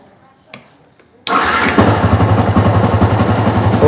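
A Yamaha R15 motorcycle engine starts after about a second of near silence, catching abruptly and settling straight into a loud, steady, close-up running rumble that continues to the end.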